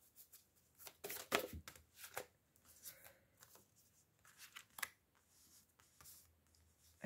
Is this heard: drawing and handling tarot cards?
yes